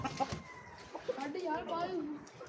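Hen clucking close by among farm fowl, short soft clucks scattered through the moment while people talk nearby.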